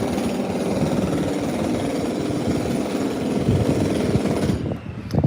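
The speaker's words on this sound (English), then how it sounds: "jackhammers." Jackhammers pound close by in a continuous, dense rattle that stays loud for about five seconds, then dips briefly and returns near the end.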